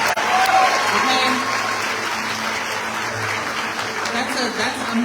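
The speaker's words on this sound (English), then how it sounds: "So give them a round of applause." Sustained applause from a graduation audience at Lincoln Tech's Paramus, New Jersey campus, a dense steady wash of many hands clapping at even loudness throughout, with a few voices mixed in.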